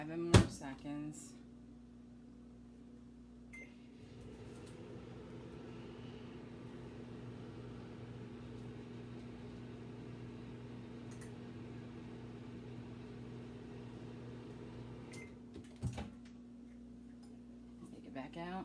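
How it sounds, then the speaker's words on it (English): A microwave oven heating gelatin hums steadily for a long stretch, framed by clunks of its door opening and closing at the start and near the end. "Pop that back in the microwave for 7 more seconds"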